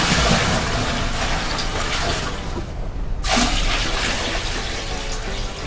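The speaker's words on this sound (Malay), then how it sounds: "saya akan masukkan air lah" Water is poured into a container already holding coarse salt, meant for breeding water fleas, producing a loud, continuous close splashing rush that dips briefly midway before resuming strongly.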